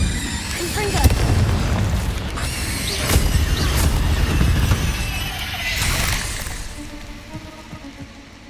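A Confringo spell explodes in Hogwarts Legacy: several booming blasts and crackling bursts, with a strong hit near the start and more swelling explosions after, over game noise and occasional voices.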